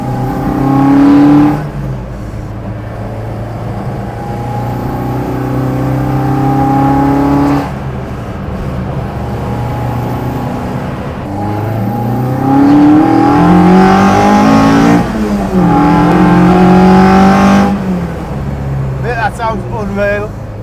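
Rebuilt Zetec-powered Mk2 Ford Escort engine revving hard in repeated loud bursts, rising and falling pitch sweeps between idling stretches, with people chatting nearby over it.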